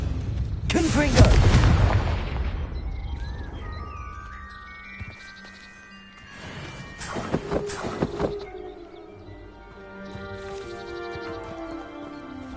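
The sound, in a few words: Confringo blasting curse explosions in the video game Hogwarts Legacy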